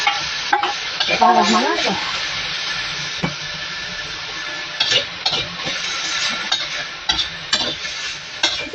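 Dried shrimp and salt dry-fry in a pan without oil, with a steady sizzle under repeated scraping stirs; a voice speaks briefly.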